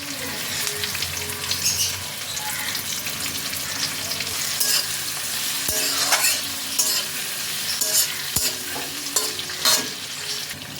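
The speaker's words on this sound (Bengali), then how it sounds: "আদাটাকে তেলের মধ্যে খানিকক্ষণ একটু সাঁতলিয়ে নেব" Ginger sautés in hot oil with green chilies added, giving a loud, steady sizzle over about eleven seconds with stirring scrapes and a couple of sharp knocks; nobody speaks.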